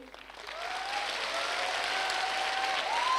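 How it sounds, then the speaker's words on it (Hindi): Audience applause at a SAFESHOP function in Lucknow, steady clapping from a crowd that swells after the first second and holds at a moderate, somewhat distant level. "एक बार ताली।"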